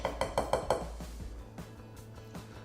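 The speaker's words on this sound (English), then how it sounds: "I'm gonna give it a quick whisk and then I'm gonna finish mixing it by hand." A whisk mixes dry bath bomb ingredients with oils in a bowl: five quick, evenly spaced clinks against the bowl, then softer, irregular scraping and tapping as the stirring slows.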